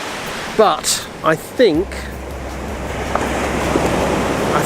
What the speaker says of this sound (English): at the moment we've got some quite nice waves